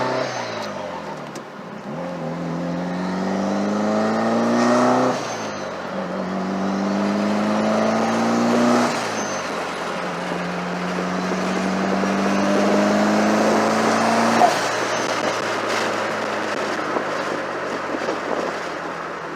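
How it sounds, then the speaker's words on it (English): A car fitted with a Forced Performance red turbo, driven on the road, with the engine pulling through several gears and rising turbo spool whine between shifts, loud and continuous. "This thing sounds totally different when it spools versus the original turbo."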